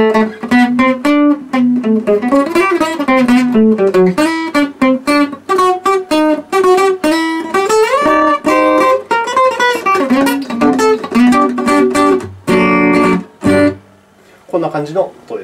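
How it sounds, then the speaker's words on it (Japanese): An acoustic guitar plays a lively melodic run of plucked notes and chords, loud and close, with a few sharp strums and muted strokes near the end before it fades. "弾いてみます。"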